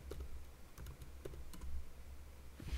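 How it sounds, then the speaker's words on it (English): A computer keyboard clicks out a short command in quick, irregular keystrokes, close and fairly quiet, with no talking. "let's type in who am I"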